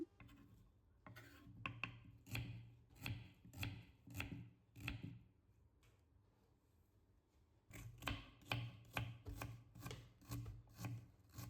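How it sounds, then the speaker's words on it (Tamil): Rapid, steady knife chops on a cutting board, finely chopping onion in quick bursts, with a short pause midway before the chopping resumes. "வெங்காயம் பொடி பொடியாக நறுக்கியாச்சு"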